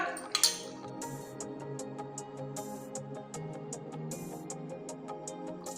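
A spoon clinks against a pan in a quick, steady rhythm as a cold-water slurry is stirred bit by bit into street-style chilli chicken. The clinks are close and clear over a low kitchen background.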